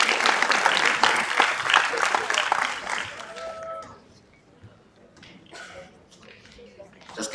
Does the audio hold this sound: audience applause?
yes